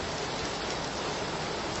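Steady, relaxing rain falls as an even, continuous hiss, close and constant throughout with no voices.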